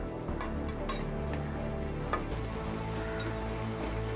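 Onions sizzle steadily in hot oil in a pan while being fried golden for a gravy paste, a soft continuous crackle with occasional light clinks of a utensil against the pan.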